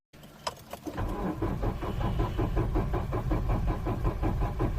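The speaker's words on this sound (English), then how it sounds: "the engine may turn over sluggishly because the battery doesn't have enough power" A car engine on a weak battery cranks sluggishly after a few clicks, the starter's slow rhythmic churning continuing loud and close without catching, with no speech.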